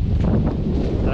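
Strong wind on a seashore at high tide buffets the microphone in a steady low roar, with a faint voice underneath.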